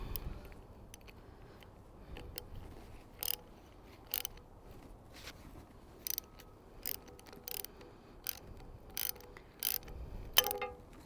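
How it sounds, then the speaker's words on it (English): A ratchet with a 7mm socket works the screw of a garden pruner's thumb catch, giving a series of sharp, evenly spaced clicks close by over quiet background noise. "I'm going to be using a 7mm socket for this one to get it off."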